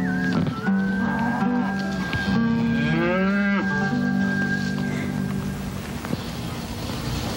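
Several farm cattle moo loudly in long, overlapping calls that swell and fade over a low, steady background, with no talking.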